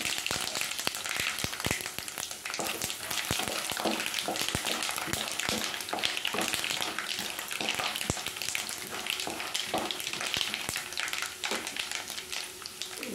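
Peanuts, chana dal, mustard seeds and spices fry in hot oil for upma, crackling and popping in a dense, continuous sizzle with sharp spits throughout, close and loud, with no talking.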